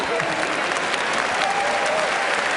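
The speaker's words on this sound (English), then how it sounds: "Big round of applause" Loud, continuous applause from an audience, thick and even clapping with a few faint voices mixed in.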